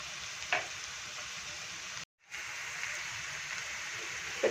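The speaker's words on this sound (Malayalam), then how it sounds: "സവാളയും ഇഞ്ചി ചതച്ചതും വെളുത്തുള്ളി ചതച്ചതും പച്ചമുളകും കൂടെ ചേർത്ത് വഴറ്റിയെടുക്കാം" Onion, crushed ginger, garlic and green chilli sauté in a pan with a soft, steady sizzle and frying crackle, fairly quiet and close, with one brief gap near the middle.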